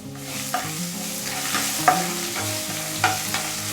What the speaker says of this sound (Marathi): छान असं थोडंसं फ्राय करून घ्यायचं